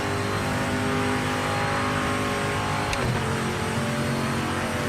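A Mosler GT race car in the Project Motor Racing video game drones at steady high revs, loud and continuous, with a brief gear-shift blip midway.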